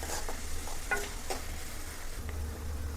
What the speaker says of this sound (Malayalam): ഇപ്പം ഇതേ സവാളയൊക്കെ ഏകദേശമൊക്കെ ഒന്ന് വഴണ്ട് വന്നിട്ടുണ്ട്.